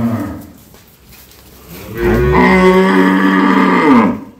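Dairy cows at a cattle farm in Dinajpur, one letting out a long, loud, close moo that swells and holds for about two seconds after a quieter stretch of farm background.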